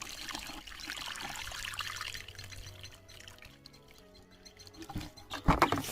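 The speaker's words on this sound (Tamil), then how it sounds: "பக்கெட்டில் நம்ம தண்ணி எடுத்துகிட்டு வந்து ஊற்றலாம் சொல்லிட்டு ஊற்றுறோம்" Water poured from a bucket onto bean seedlings, a steady trickling pour that runs for several seconds, then slows and ends in a few louder splashes and patters near the close.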